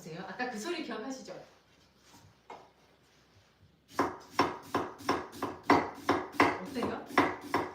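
Knife chopping steadily on a wooden cutting board, about a dozen crisp rhythmic chops close by, after a stretch of talking and a few softer taps.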